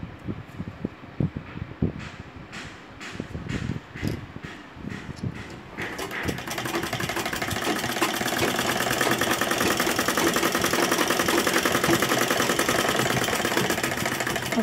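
Sewing machine running steadily and loudly while stitching a capri, a continuous dense mechanical whir after a few seconds of handling clatter and taps.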